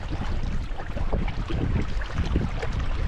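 A sailboat moves up Malpeque Bay, its passage heard as rushing wind buffeting the microphone and a churning wash of water, loud and continuous with no voices.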